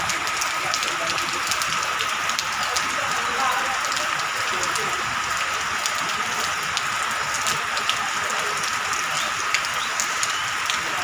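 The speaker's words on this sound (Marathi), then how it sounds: "जमिनीवर पाणी पडलेला पायऱ्यावरती त्याचा आवाज टप टप टपा टप टपा टप बघा" Heavy continuous rain patters and drips onto nearby steps, a dense steady wash of droplets with occasional sharper taps, a voice talking over it.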